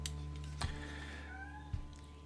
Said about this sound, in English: My cat is telling me all sorts of lies right now.